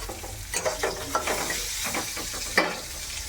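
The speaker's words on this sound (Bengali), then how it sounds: "ডিমের তরকারি করছি, এই দেখুন" Egg curry sizzling and frying in a pan, with steady hiss and repeated scraping strokes of stirring close by, several louder clinks of the utensil against the pan.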